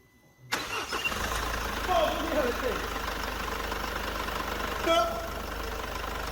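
A Mercedes W212 engine cranks and fires after a timing chain job, then settles into a steady idle close by, with a couple of brief rev swells along the way.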